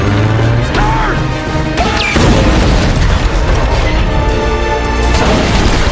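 A fighter plane is shot and blown apart during the Pearl Harbor attack: violent crashing smash and booming explosion with metallic clatter and rumbling debris, loud and close over a dense roar.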